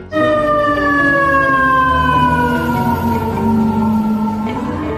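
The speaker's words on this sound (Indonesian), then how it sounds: "Di sini ada truk pemadam kebakaran." A loud toy fire truck siren wails continuously, its pitch sliding slowly downward and then holding, close and alone with no talking.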